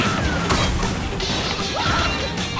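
A loud bomb blast smashes into the boss's face in the Tom Gold Run mobile game, a sharp crashing impact over busy game music and effects, followed by further clattering hits.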